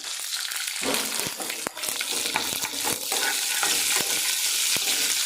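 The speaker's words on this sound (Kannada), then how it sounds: "ನೆಕ್ಸ್ಟ್ ನಾನೀಗ ಉಳ್ಳಾಗಡ್ಡಿ ಹಾಕತ್ತೀನಿ." Onions and capsicum fry in a pan with steady, dense sizzling and sharp stirring scrapes, close and loud throughout, with no talking.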